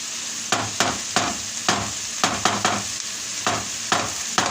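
Onions fry in a pan for menemen, a steady close sizzle punctuated by a regular series of sharp spatula scrapes and taps against the pan, with no talking.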